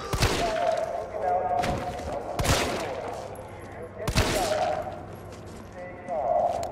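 Gunfire in the Resident Evil 3 video game: several loud sharp shots and bursts spaced a second or two apart, over a steady game background with voices underneath.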